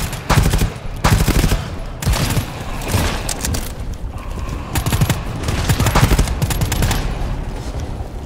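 Rapid automatic gunfire in the video game GTFO, loud and close, with repeated bursts and volleys running continuously throughout.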